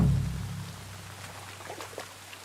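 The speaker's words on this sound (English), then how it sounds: "Oh, it's raining." Rain falls in the video game Kingdom Come: Deliverance II as a soft, steady pattering of scattered drops, fairly quiet and continuous, with no speech.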